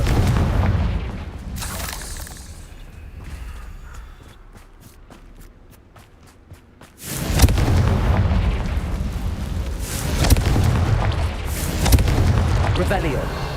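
Fiery Confringo spell blasts in the game Hogwarts Legacy, a dull rumbling boom at the start, a quieter stretch of rapid clicks, then heavy sustained explosive roars with repeated loud bursts.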